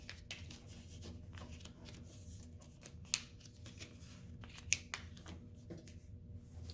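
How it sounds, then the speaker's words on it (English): Paper is folded over itself into triangles to make a paper football, giving soft close rustles and creases with a couple of sharper crinkles, quiet and without talk. "you're just going to continue doing that same motion, creating triangles. So just folding it over itself."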